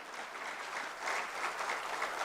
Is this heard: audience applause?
yes